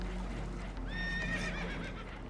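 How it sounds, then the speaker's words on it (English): Spooked horses whinny in one clear, rising neigh over a steady low rumble of water and boat noise, in a river scene from Red Dead Redemption 2. "Horses are spooked, and we're taking on water."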